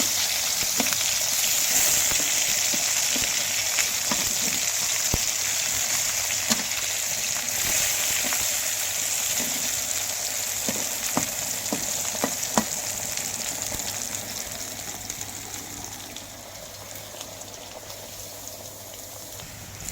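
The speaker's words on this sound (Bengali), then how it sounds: "আমার বেগুনটা ভাজা হয়ে গিয়েছে দেখেন খুব সুন্দর ভাজা হয়েছে" Steady, close sizzling of eggplant frying in hot oil, with crackling pops and occasional scraping clicks, continuous throughout with no voices.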